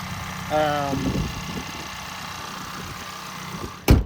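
A 2024 Ford Ranger's 4-cylinder engine idles with a steady low hum throughout, under a voice briefly heard early on, with a short sharp knock near the end.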